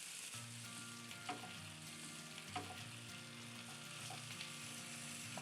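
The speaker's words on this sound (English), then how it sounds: "now I just have to stir and start cooking the potatoes and onions" Potatoes and onions frying in a skillet while being stirred, a soft continuous sizzle with occasional spatula scrapes and a low steady hum underneath, with no voices.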